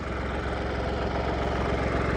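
A New Holland 3630 tractor engine runs slowly at low revs, with a steady, loud, throbbing low rumble. The pulsing is continuous and close, with no voices over it.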